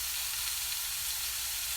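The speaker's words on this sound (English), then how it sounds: "Y'all hear the steam?" Steam hissing from cooking in a home kitchen, a steady broad hiss with faint sizzling, constant and fairly quiet, with no voices.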